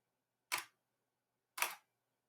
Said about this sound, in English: You could hear how the shutter opened and closed in a longer amount of time